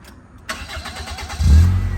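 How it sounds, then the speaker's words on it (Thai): A Toyota Corolla car engine with automatic transmission cranks briefly and catches on the first try, then settles into a loud, low idle rumble close by. "สตาร์ทที่เดียวติดนะครับ"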